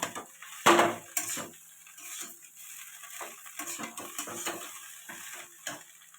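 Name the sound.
frying in a pan for flattened rice pulao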